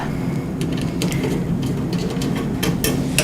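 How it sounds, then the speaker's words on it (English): Side screws being taken out of a kiln's control box: a screwdriver turns in a series of short metallic ratcheting clicks and squeaks at an irregular pace, close up, over a faint steady hum, with no speech. "you're going to remove these side screws"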